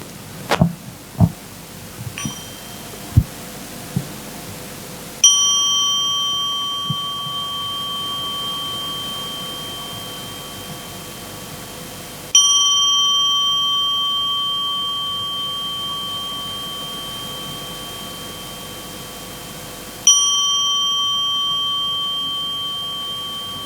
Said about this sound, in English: we're going to listen to 3 sounds of the bell